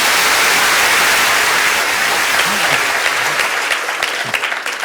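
Convention audience applauding as actress Beverly Washburn is welcomed on stage, a dense, loud, sustained wash of clapping that thins slightly toward the end.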